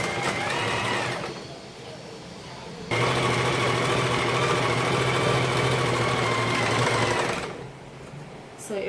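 Electric sewing machine stitching a saree fall from lining fabric, a steady whirring hum that runs briefly, pauses, then runs again for several seconds before stopping, close and loud.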